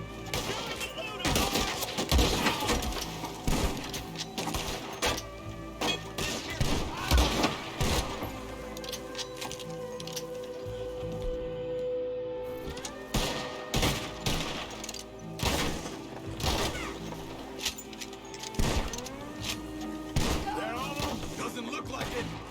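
Scattered gunshots in the video game Red Dead Redemption 2, sharp cracks going off irregularly amid a chaotic firefight, with shouting voices and game noise throughout.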